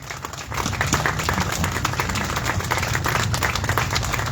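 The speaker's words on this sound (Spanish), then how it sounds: "yo quiero pedirles un fuerte aplauso para Mike Forbes" A crowd at a funeral procession for journalist Mike Forbes in Puerto Barrios applauds, a steady, fairly loud round of clapping that continues throughout over a low rumble of outdoor background noise.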